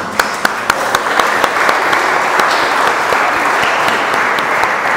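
Applause from a church congregation after a wedding ring blessing during a pilgrimage gathering, a dense steady wash of clapping with a few sharp nearby claps standing out, lasting throughout.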